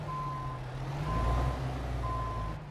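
Truck reversing alarm in the Euro Truck Simulator 2 video game, driven with a G27 wheel: three evenly spaced electronic beeps over a steady low engine rumble.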